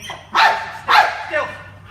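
Police patrol dog barking twice in loud, sharp bursts, with a fainter third yelp trailing off, at a police department training demonstration where a handler is speaking.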